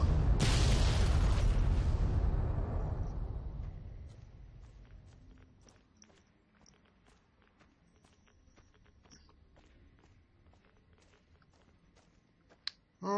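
A massive explosion in Fallout: New Vegas roars loudly at the start and slowly fades over several seconds, leaving faint footsteps and scattered small clicks, then a sharp pop near the end.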